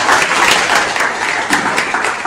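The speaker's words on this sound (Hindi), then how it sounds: "इनके लिए जोरदार ताली बजा दीजिए।" Students applauding together in a classroom session, a dense steady roar of many hands clapping, loud and close, continuing evenly with no talking over it.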